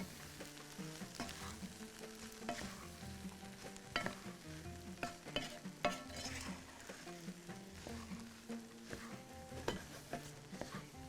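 Food frying in a pan with salt added, stirred over low heat for a Bahraini dish; a steady sizzle runs throughout with repeated scraping and clinking stir strokes, close and fairly loud, with music-like tonal layers underneath.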